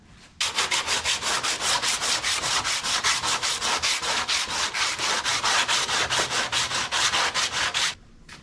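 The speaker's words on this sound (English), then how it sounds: "I'll take some sandpaper on a block. Take care of these sharp edges here." Sandpaper on a block rubs back and forth over the sharp edges of a vintage camper door, a loud rhythmic rasping of about two strokes per second, continuous for nearly eight seconds and heard alone.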